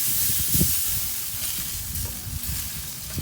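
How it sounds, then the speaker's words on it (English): Apple juice and apple cider vinegar spritzed onto St. Louis style ribs in an old Country Wrangler offset pit smoker, giving steady close hissing spray bursts with faint crackle and no talk. "I'm going to go ahead and spritz them down."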